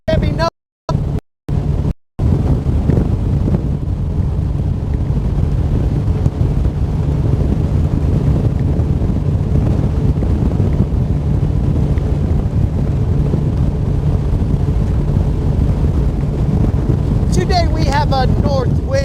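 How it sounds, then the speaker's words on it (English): A bass boat runs at 53 mph into a headwind on Lake Guntersville, its engine roar blending with heavy, constant wind buffeting on the microphone, loud and steady throughout, and a voice is briefly heard. "53 miles an hour into a headwind."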